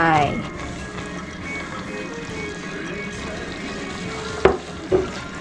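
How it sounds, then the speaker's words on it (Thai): Onions fry in a pan for spaghetti sauce, giving a steady low sizzle throughout with a couple of sharp knocks near the end and someone talking briefly at the start. "แล้วก็ใส่หอมลงไป"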